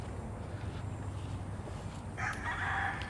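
A national banded stag rooster crows near the end, a single clear call rising over steady background noise and low murmur.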